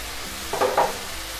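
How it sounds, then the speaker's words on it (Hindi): French fries frying in hot oil over a high flame, with a steady bubbling sizzle underneath a short burst of clattering stirring in the middle. "इसे अब हम देखिए, मेरा फ्राई हो जा रहा है।"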